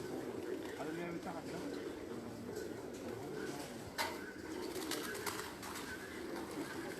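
Pigeons coo softly on a rooftop loft of flying and breeder pigeons in Saham, Oman, faint murmuring calls under a steady background hum while people talk nearby.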